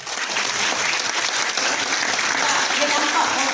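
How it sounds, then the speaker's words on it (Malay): An audience claps for sponsors Diamond Direct, Abdul Jalil and Zaimah, a thick, even wash of hand-clapping that holds steady at moderate volume for the whole stretch. "bagi tepukan yang hebat untuk penaja kami iaitu Diamond Direct Abdul Jalil dan"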